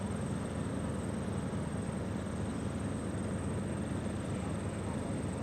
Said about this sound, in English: Oh, beautiful landing there.